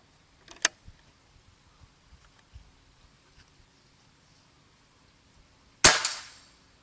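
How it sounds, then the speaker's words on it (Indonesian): A Gorilla X2 PCP air rifle with a power plenum fires a single sharp, loud crack close by during an accuracy test, ringing out briefly, with a faint click and small handling noises earlier. "Tembakan ke-9 ya."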